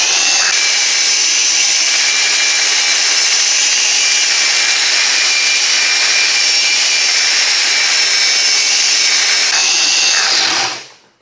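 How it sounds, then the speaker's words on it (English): Loud, steady whine and grinding hiss of a belt sander shaping metal frame tubing from a Honda Ruckus scooter, running continuously before cutting off abruptly at the end. "we're gonna use this sanding belt, and this is gonna give you the perfect shape"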